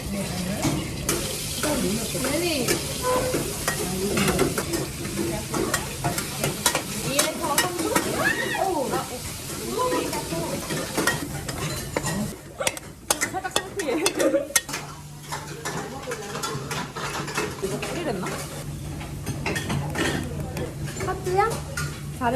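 Garlic stir-frying in a pan at a Thai cooking class in Bangkok, a steady sizzle with spatula scrapes and stirring clatter running throughout, while several people talk over it nearby.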